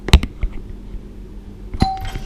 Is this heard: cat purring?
no